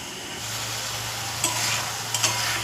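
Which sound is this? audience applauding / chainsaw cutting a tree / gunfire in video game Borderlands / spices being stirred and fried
spices being stirred and fried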